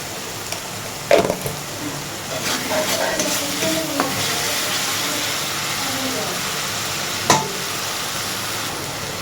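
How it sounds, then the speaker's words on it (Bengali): Spice paste for a restaurant-style spicy crab curry sautéed in a pan with a splash of water, giving a steady sizzle and hiss broken by a few louder spatula clatters near the start and again toward the end. "মশলারই জল দিয়ে দিয়ে একটু মশলাটা ভালো করে কষিয়ে নেব"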